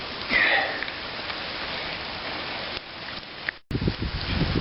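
Rain falling outside a primitive campsite shelter, a soft continuous patter and hiss with a brief dropout near the end followed by closer, louder drops.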